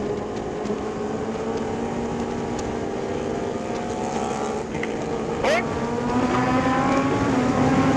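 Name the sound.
truck passing on the road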